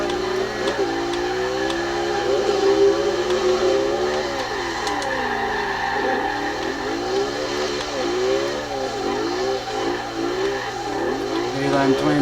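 A 2008 BMW M3 drift build with Leyline twin turbos in Forza Horizon 2, engine revving steadily while drifting in fourth gear, sustained wavering drone with rising and falling pitch sweeps throughout.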